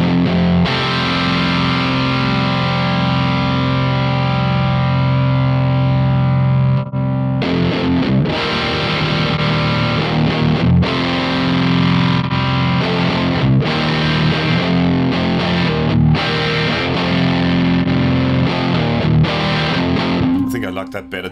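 Bass guitar through an all-crank distortion preset in the Two notes Genome amp software, heavy, fuzzy riffing played loud and continuous with brief pauses between phrases.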